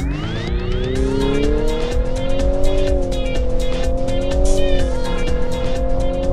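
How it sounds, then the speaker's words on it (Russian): A 2022 Infiniti QX55 accelerates hard from a standstill with its CVT transmission emitting a loud, steady, droning howl that rises slowly in pitch and holds there, layered over tire and road noise for several seconds. "Заунывно орет вариатор."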